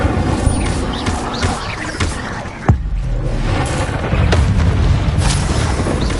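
Incendio fire spell cast in Hogwarts Legacy on PS5, heard as a loud game effect: a sharp burst with a low boom near the midpoint, set within continuous rumbling combat sound.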